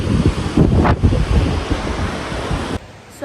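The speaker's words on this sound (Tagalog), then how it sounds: "Hindi ko naman namalayan, meron palang dagat dito guys" Sea waves wash onto the shore at Oroquieta, a steady surf roar with gusty wind buffeting the microphone, loud and close, ending in a brief drop near the end.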